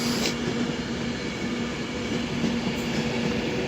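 A Virgin Class 390 train, unit 390-043, at Crewe station bound for London Euston, gives a steady, even rumble throughout with a constant mid-pitched hum, heard fairly close with no talk.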